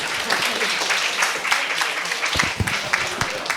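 Loud, sustained audience applause at a carbon-neutral campus transition forum, many hands clapping densely and evenly throughout.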